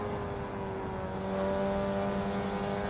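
Mazda MX-5 four-cylinder race car in Assetto Corsa held high in the rev range at Lime Rock, a steady loud engine drone with a slight rise in pitch, heard alone.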